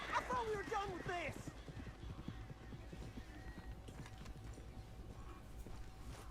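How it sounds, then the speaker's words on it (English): In Red Dead Redemption 2, a horse's hooves clip-clop quietly in a steady rhythm for most of the stretch, with gear rattles mixed in. A voice talks briefly near the start. "Peguei esse cavalo, velho."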